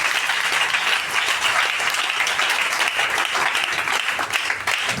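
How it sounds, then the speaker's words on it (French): A church congregation breaks into sustained, dense applause, many hands clapping together at full volume for the whole stretch, with faint voices mixed in. "You need to clap for him for that."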